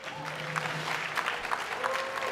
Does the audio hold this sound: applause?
yes